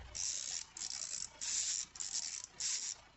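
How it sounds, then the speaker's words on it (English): A ratcheting screwdriver handle is twisted back and forth, giving five evenly spaced bursts of fine clicking, close and fairly quiet, with no talking. "if you just twist the handle, it is a regular ratcheting screwdriver"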